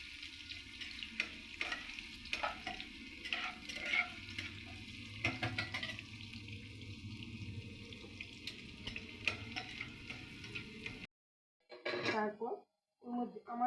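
Onions frying in a pan for aloo dum give a dense, close sizzle with stirring scrapes for about eleven seconds, then cut to someone talking briefly in near silence.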